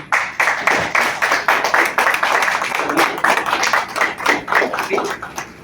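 A small audience at a book presentation applauds poet Adolfo Padilla Morales, a close, lively burst of individual hand claps that keeps up a brisk, uneven rhythm throughout.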